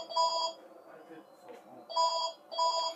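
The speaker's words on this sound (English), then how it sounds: "that's just the phone ringing." A phone rings in three short bursts of bright electronic trilling with quiet gaps between them, close by and loud, in a room where a person is playing a video game.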